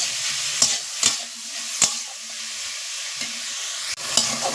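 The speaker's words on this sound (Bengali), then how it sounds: "পেঁপেটা এবার দিয়ে দিচ্ছি এটাকেও ভালো করে একটু নেড়ে নেবো" Papaya pieces fry with chilli and bay leaf in a pan for a sweet papaya chutney. A spoon scrapes and stirs them in several distinct strokes over a constant loud hiss of sizzling oil, close up with no voices.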